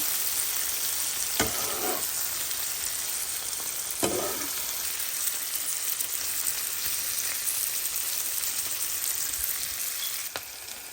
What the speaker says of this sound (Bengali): আবারও আমি আলতো হাতে এটাকে নাড়ছি উল্টিয়ে দিচ্ছি